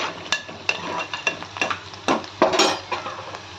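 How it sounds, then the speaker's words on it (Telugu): Onions frying in a pan on a gas stove being stirred, a series of distinct scraping strokes roughly every half second over a low sizzle, close and clear. "ఉల్లిపాయలు అయితే వేపుకుంటున్నాను గ్యాస్"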